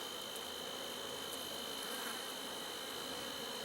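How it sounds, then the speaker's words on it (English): Honeybees hum in a steady, droning buzz close by during a hive inspection after requeening, continuous and fairly quiet, with no voices over it. "Look at that little bee just trying to work its way out."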